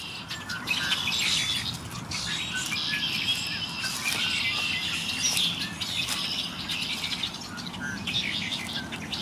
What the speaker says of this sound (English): A lot of birds singing over there